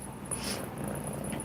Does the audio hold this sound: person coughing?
no